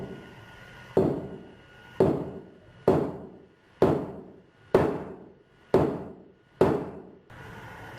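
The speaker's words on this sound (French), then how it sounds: "vu que mes coups de marteau étaient de plus en plus forts" Hammer blows strike near a seismic sensor, seven sharp thuds spaced about a second apart, each ringing briefly before the next, growing gradually stronger.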